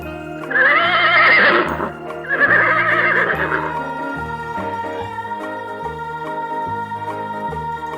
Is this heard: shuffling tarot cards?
no